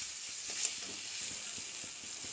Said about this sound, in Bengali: মরিচ ভাজা হয়ে গেছে, কি সুন্দর তেল ছেড়ে দিয়েছে দেখুন